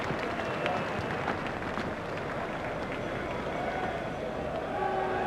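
Cricket crowd at a Zimbabwe vs Australia one-day international applauding a boundary shot, a dense, sustained wash of clapping and cheering from a large stadium audience, steady and loud throughout the clip.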